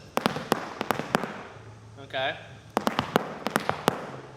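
Sharp hard-soled Irish dance shoe heel and toe taps in quick, uneven rhythmic bursts, with a short spoken word in a pause between them.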